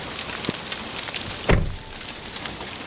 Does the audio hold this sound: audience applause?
no